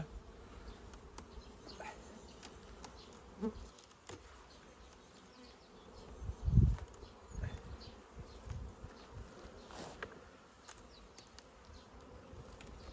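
Honey bees of the Carpathian breed buzz steadily at a hive during queen introduction, a continuous close drone with a brief louder swell near the middle.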